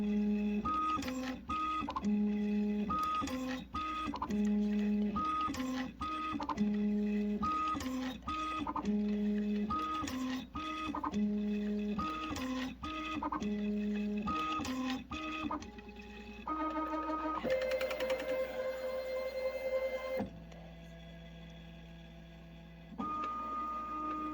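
A Matrix Filler Wizard packaging machine fills two disposable trays per cycle, with a steady mechanical hum and a repeating pattern of tonal whirs and clunks. Near the end the motor tone shifts into longer, steadier whines.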